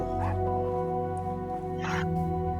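Dog barking in a video game, a couple of short yips standing out against a steady, dense bed of game music.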